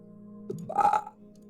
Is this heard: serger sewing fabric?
no